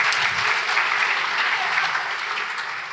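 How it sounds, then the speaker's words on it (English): An audience applauds at a library author event, a dense, steady wash of clapping held at an even level for about three seconds with no voices. "So big round of applause to everybody to help pulling this together."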